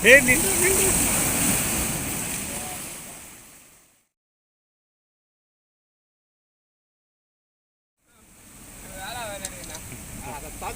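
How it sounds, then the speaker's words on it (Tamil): Ocean waves breaking on a beach at Kasimadu during beach fishing: a steady broadband wash of surf, close and fairly loud, cuts to dead silence midway and then returns more softly. "பெரிய அலை வருதுடா, லைட்டாக பிடிச்சிடும்."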